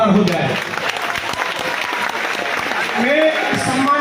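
Applause from a crowd at a Meghwal community gathering in Sirohi, a dense steady patter of clapping that swells toward the end, with a voice speaking over it at the start.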